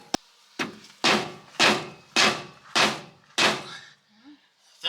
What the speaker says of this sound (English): Now we take this dead blow hammer